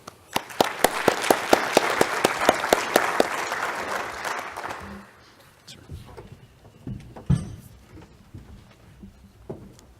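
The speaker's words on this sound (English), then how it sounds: "will you please join me in a warm round of applause for our panelists" Audience applause for the panelists at a hydropower business session, a steady burst of many hands clapping that builds, holds for several seconds, then fades into scattered claps and room noise.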